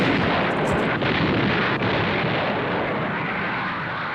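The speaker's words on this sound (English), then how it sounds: "Montgomery's assault at El Alamein began with a barrage of 900 guns." Massed artillery barrage at El Alamein in 1942, hundreds of guns firing at once: a continuous, loud rumbling roar of overlapping blasts with a few sharper thuds standing out, steady throughout.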